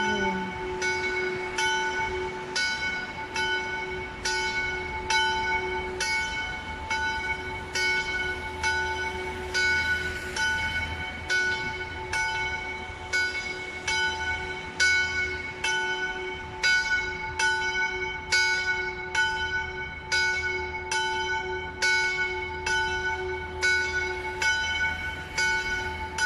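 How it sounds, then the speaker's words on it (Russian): Catholic church bells in Svendborg ring out at noon in the town centre, a steady, regular run of loud bell strikes that continues for the whole stretch. A low rumble of traffic sits beneath them, and no one speaks. "Колокольный звон церкви Свенборга"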